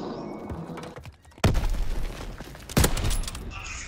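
Two loud sniper rifle shots in a WWII London Docks free-for-all video game match, each a sharp crack with a rumbling tail, about a second and a half apart, with ambient game noise between them.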